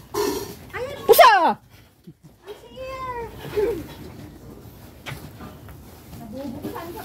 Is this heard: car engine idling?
no